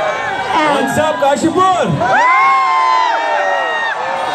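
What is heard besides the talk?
crowd cheering and clapping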